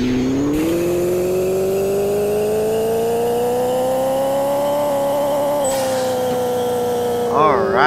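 A Ford Escort engine with nitrous revs on a dyno in the racing game Pixel Car Racer, a loud droning note climbing steadily in pitch for several seconds, dipping briefly, then ending with a short burst of noise.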